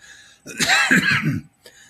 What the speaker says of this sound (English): I apologize for this hair trigger cough.